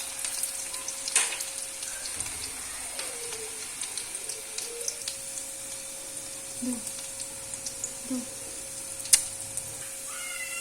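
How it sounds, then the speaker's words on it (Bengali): Chopped onions and bay leaf dropping into hot oil in a heated wok, a soft continuous sizzle with scattered crackles and stirring taps, fairly quiet and close, no talk. "তেলটা গরম হয়ে গেছে, এখন পেঁয়াজ কুচি দিয়ে দেব"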